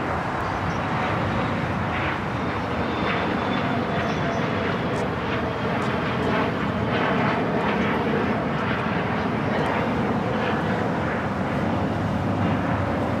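An Emirates airliner in updated livery taxis toward the gates at Los Angeles International, a continuous heavy engine rumble holding steady and close throughout.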